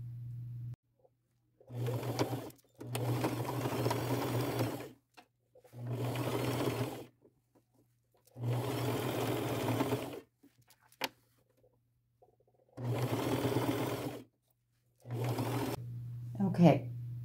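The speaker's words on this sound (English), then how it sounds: "I'll stay at the top of this piece of lace, but I'll be sewing it to the band using my zigzag stitch." Sewing machine running a zigzag stitch to attach lace to a band for dress sleeves, heard as quiet, close bursts of rapid whirring separated by silent pauses, with a faint hum underneath.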